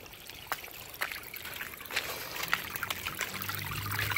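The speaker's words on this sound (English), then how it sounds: "That water sounds rushing a little bit harder now." Water from a plumbing leak trickles and rushes steadily, with a few faint knocks and clicks over the flow, growing slightly louder and fuller toward the end.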